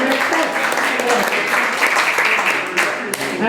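An audience at a community issues forum claps steadily in a dense, sustained round of applause that fills the room, with a few voices mixed in.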